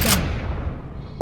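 A sawed-off shotgun fires in a video game with a sharp, loud blast that decays over about a second before a second shot begins.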